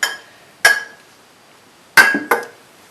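A vessel is lifted out of a QLA calibration setup, giving a few sharp metallic clinks and knocks: two separate taps, then a quick double clank near the end, each ringing briefly in a quiet room.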